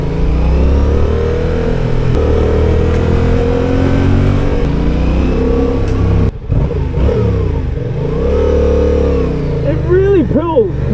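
A Yamaha XSR 700 (XTribute) motorcycle engine pulls and accelerates, a loud, close mid-range drone that swells and rises in pitch, with a brief dropout and sweeping revs near the end, while someone talks over it.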